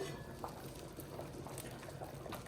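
Quiet bubbling of a hearty soup with pepper and paprika simmering in a pot, a faint, steady burble with small pops.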